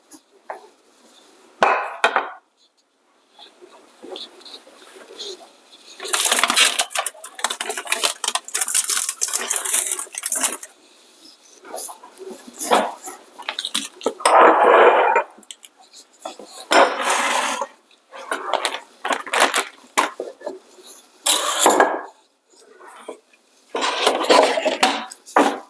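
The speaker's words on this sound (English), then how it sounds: "right now I'm going to dice up an onion and add that to this." An onion being diced with a knife on a bamboo cutting board: bursts of rapid close knife chops knocking against the wood, separated by pauses, with no talking.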